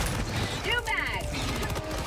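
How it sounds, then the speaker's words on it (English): Weapon reload in Helldivers 2 gives a quick mechanical clatter, with metallic clicks and a ratcheting slide over a steady din of game action, close and fairly loud. "Reloading."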